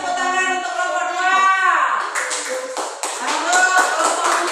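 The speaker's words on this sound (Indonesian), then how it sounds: "kasih tepuk tangan untuk kelompok 2" Classroom group applauds a team of teacher-trainee students after their story presentation, a burst of light handclaps rising after a voice and running on to the end, with talk around it.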